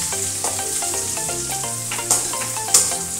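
Chopped garlic, onion and green chili fry in a pan over low heat, giving a steady close sizzle with the light clatter of stirring and two brighter spatters.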